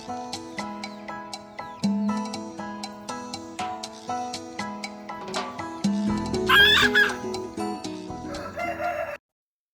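Chickens, regular hens and bantams, cluck in rapid bursts, with a crow rising over the clucking near the end before the sound cuts off abruptly.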